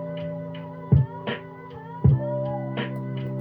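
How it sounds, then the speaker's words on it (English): A short lo-fi hip hop drum loop with saturation plays, with booming 808 kicks and snare hits over a sustained tonal chord bed at a relaxed, steady tempo. "for the drums, I put a little saturator on them so they could bump a little harder"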